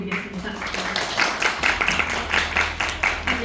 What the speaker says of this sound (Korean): 우리 해외 취업의 지연 대리님이랑 또 일본 멘토분들께 크게 박수 부탁드리겠습니다